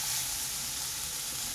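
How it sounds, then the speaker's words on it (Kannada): Ten to fifteen garlic cloves fry in a pan, giving a short, even, close sizzling hiss without voices. "10ರಿಂದ 15 ಎಸಳು ಬೆಳ್ಳುಳ್ಳಿನ ನಾನಿಲ್ಲಿ ತಗೊಂಡಿದ್ದೀನಿ. ಎಲ್ಲನೂ ಚೆನ್ನಾಗಿ ಫ್ರೈ ಆಗಬೇಕು."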